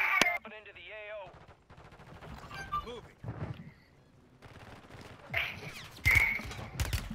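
Gunfire in a Call of Duty match: sharp shots and short automatic bursts, loud and close, with quieter gaps between them.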